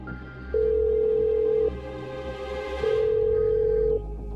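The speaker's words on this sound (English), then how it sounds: "I start ringing Kelly" Telephone ringback as a call is placed, two long steady electronic ring tones about a second apart, clear and alone over a quiet hum.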